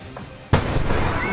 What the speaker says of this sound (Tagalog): Binulabog ng sunog at malakas na pagsabog ang ilang taga Legazpi City sa Albay.